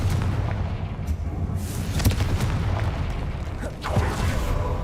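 Confringo fire-blast spells cast in the game Hogwarts Legacy inside a spider-filled catacomb: sharp booming bursts near 1.6, 2.1 and 3.9 seconds punch through a dense low rumble of game ambience.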